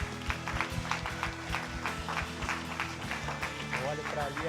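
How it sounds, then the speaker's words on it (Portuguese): Congregation at a Brazilian family celebration church service applauds with a dense wash of clapping over steady music, as a voice speaks in Portuguese on top of it. "Uma salva de palmas para o nosso Senhor Jesus."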